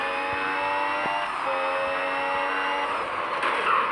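An F1 car's engine in the F1 Mobile racing game revs up steadily, a loud, continuous high-pitched whine climbing in pitch as it accelerates, with no talking over it.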